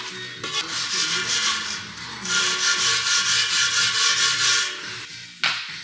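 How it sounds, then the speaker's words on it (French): A brush scrubs a dirty wheel rim during a tyre change, making close, rhythmic back-and-forth rubbing strokes in two bursts with a short pause between and a sharp knock near the end. "On va filer un petit coup de brosse parce que c'est un peu dégueu."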